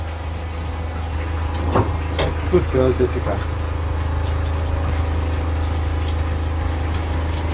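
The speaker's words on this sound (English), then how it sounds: "And then just let the water run down." Water runs steadily from a hose or tap while a small dog is rinsed during a bath, a constant loud hiss and rush close by, with brief knocks and a person speaking to the dog over it.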